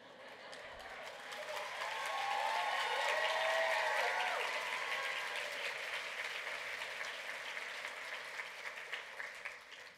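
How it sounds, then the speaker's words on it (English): A conference audience claps at a keynote talk, a broad roar of applause swelling for a few seconds and then thinning toward the end, with voices mixed in. "She says you're clapping."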